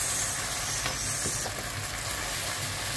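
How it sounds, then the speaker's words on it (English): A spicy sweet Korean sauce reduces in a pan for chicken wings, giving a steady, loud, broadband sizzle and bubbling hiss that runs unbroken throughout, with occasional faint stirring and no voices. "Just have to reduce a little bit of our sauce."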